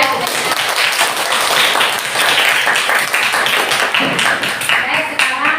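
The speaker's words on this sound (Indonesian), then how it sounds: "Kasih tepuk tangan dulu ya." Classroom applause from teachers in a guidance session, a dense, steady clatter of many hands clapping together at close range for several seconds, with some murmured voices mixed in.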